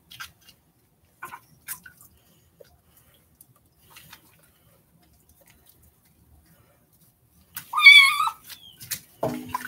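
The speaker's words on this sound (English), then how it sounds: "Now he meows." A kitten being given a bath lets out a single clear, wavering meow near the end after a long stretch of near silence with scattered faint drips and small splashes, followed by a brief human voice.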